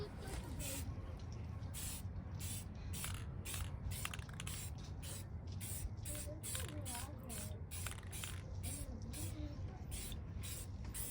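Spray paint goes onto a trailer interior in a long series of short, regular hissing bursts, heard close and at a fairly even level.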